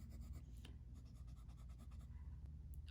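A steel-nib fountain pen with slight flex writes in Red Dragon ink on paper, giving a faint, close scratching that runs in short strokes over a steady low background hum.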